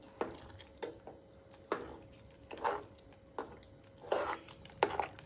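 A spoon works through thick sweet pongal of rice, jaggery and salt in a pot, giving soft squishy scraping strokes in an irregular rhythm, roughly six separate stirs, close and fairly quiet, with no talking.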